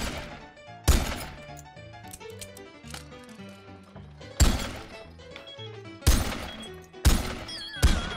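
Gunshots in the VR party game RADtv land as five loud, separated cracks over a bouncy musical backing, spaced a second or so apart.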